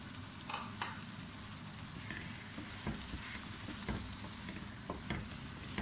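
Mutton pieces fry lightly in a pan for a chickpea-and-meat curry, a faint, steady crackling sizzle with occasional soft stirring clicks and nobody speaking.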